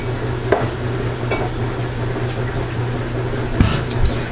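A microwave-safe container is handled while preparing melt-and-pour soap, giving a couple of brief, light clinks against a steady low hum in a quiet room.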